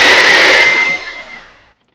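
A blender roughly chops peppers for peppered goat meat, a loud steady whir with a high whine that runs briefly, then winds down and stops.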